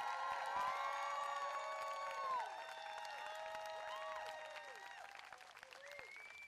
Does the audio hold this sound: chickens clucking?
no